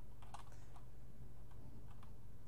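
Typing on a computer keyboard, a quick cluster of faint key clicks followed by a pause and a couple more taps, quiet and close with no speech.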